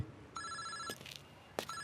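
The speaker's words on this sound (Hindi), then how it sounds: "फोन उठा।" A telephone rings in a Hindi drama scene, with two clear bursts of electronic bell-like trilling separated by a short gap, close and fairly loud.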